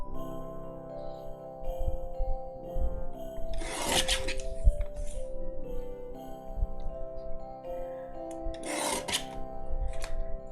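Card paper trimmed to size for an A2 card base on a paper trimmer, with two distinct rasping slides of the blade cutting through the card, each brief and close over a quiet, faintly humming background.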